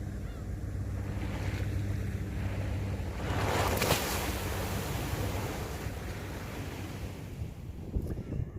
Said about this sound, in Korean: 물이 잔잔하니까 파도도 멋있네요.